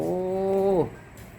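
A Persian kitten gives one drawn-out meow, clear and close, with a falling tail at the end before it goes quiet.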